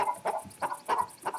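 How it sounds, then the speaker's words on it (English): Two laying hens on a ranch cluck inside their coop in a rhythmic series of soft, close clucks, about five short bursts in under two seconds, with no talking. "in here we actually have 2 chickens which we've chosen out to lay this year"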